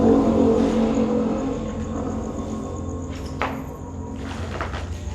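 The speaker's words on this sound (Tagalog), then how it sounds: "Sa likod ng mga ingay ng mga sasakyan na dumaraan" Traffic noise from a roadside beside a school's first floor, with cars rumbling past and an engine revving, continuous and fairly loud, no talking.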